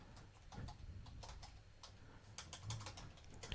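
Rapid, irregular clicking of keys on a computer keyboard, close and fairly quiet, continuing throughout with no speech.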